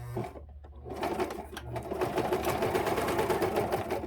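A sewing machine runs steadily for several seconds, back-stitching a size tag onto a wool cover, a brief pause near the start before the continuous whirring stitch resumes close up.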